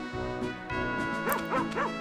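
A dog in the PS2 farming game Harvest Moon: Save the Homeland barks after being petted, a few short bow-wow barks followed by a quick run of three or four higher yips, close and clear.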